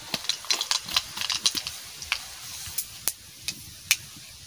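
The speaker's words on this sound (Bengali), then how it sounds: "সর্ষে ভাজা হয়ে গেছে" Mustard seeds crackle in hot white cooking oil in a pan, a scatter of sharp, irregular pops and ticks over a soft sizzle, fairly close and faint, with no voices.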